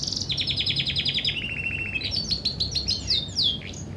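Bird in Guild Wars 2 chirping in quick repeated runs of bright high notes, a few separate phrases with short gaps over a low ambient hum, close and clear with no talk.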